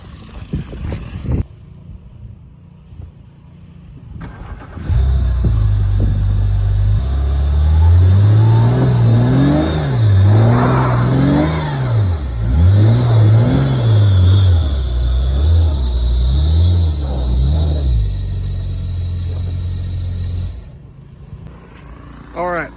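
A BMW E46 engine revs hard while the car struggles through snow in a blizzard, a loud close rising and falling drone that swells and dips repeatedly, with faint wind noise before and after.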